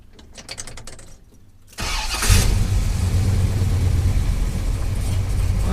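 A 1971 Chevelle SS with a T56 Magnum transmission cranks and fires up, then settles into a steady, loud, close engine rumble with a deep low-end throb, no talking.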